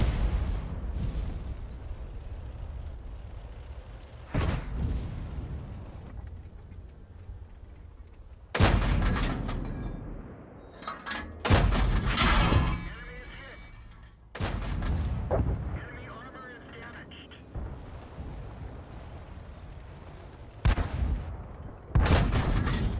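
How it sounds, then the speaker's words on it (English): Tank cannon shots in a tank video game: several loud, booming blasts fired at irregular intervals, each cutting sharply through a lower rumbling game background. "There's another shot."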